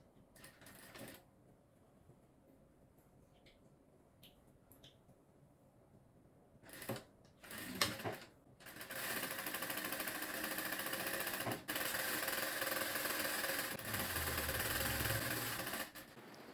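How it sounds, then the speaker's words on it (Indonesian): Sewing machine stitching elastic thread onto a khimar sleeve: faint quiet handling and a few short clicks and bursts at first, then a long steady loud run of machine whirring, with a brief pause near the end. "Ini masih lanjut jahit benang karet di lengan."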